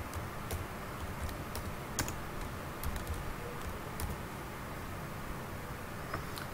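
Keys on a computer keyboard tap in quick, irregular bursts while an online application form is filled in, faint and close against a soft background hiss.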